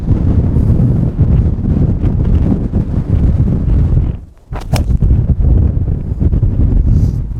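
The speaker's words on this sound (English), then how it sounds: "Wind also coming off the left slightly" Strong wind on a golf course buffets the microphone in loud, rumbling gusts that ease off for a moment and then return just as hard.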